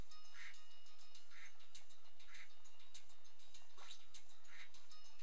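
Duck quacking in the video game Spyro 2: Ripto's Rage, a steady series of about five evenly spaced quacks with game ambience behind and no talking.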